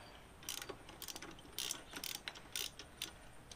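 Fork bolts on a motorcycle front fork being loosened with a ratchet, giving several short bursts of close metallic clicking separated by brief pauses, with no talking.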